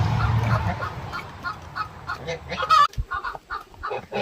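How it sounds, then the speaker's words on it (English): Ducks and chickens move about in a backyard coop on fresh bedding, giving loud nearby honking quacks and clucks in irregular bursts, with softer calls scattered between. "There's another ducky back here too."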